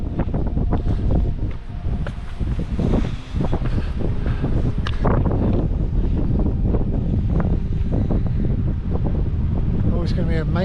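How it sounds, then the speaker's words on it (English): Steady, loud wind on Santorini buffets the microphone throughout, a constant rushing roar with occasional gusts, and a voice can be heard talking over it. "It's a bit windy today, isn't it?"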